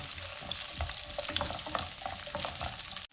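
Onions frying in oil in a pan: a close, continuous crackling sizzle with bright pops throughout, cutting off abruptly at the end, no speech.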